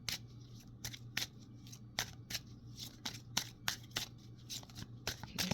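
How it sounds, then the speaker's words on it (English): Tarot cards are shuffled and drawn during a reading, giving a run of sharp papery snaps and flicks at a fairly steady rhythm, close and moderately loud, with a low steady hum underneath and no talking. "we're going to draw a final card for this"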